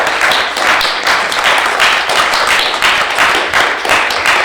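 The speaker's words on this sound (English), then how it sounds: "Can we give a round of applause for our wonderful?" Audience applause for panel speakers at a festival's education institute casting panel, loud sustained clapping from a close crowd with a steady, slightly pulsing rhythm and no talk over it.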